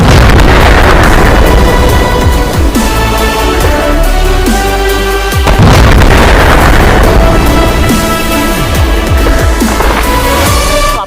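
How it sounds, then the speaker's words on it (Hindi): A huge Diwali firecracker bomb, billed as the world's biggest, goes off in a loud, dense stretch of booming blasts and crackling bursts that fill the whole span, with a brief dip before a second heavy wave. "तो गाइस ये आपके सामने है दुनिया का सबसे बड़ा बम"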